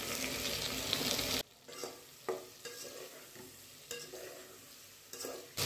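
Tomatoes cook in a pan for a thattai payaru pulikuzhambu. A loud sizzle at the start drops to a quieter frying hiss, broken by several sharp stirring scrapes against the pan.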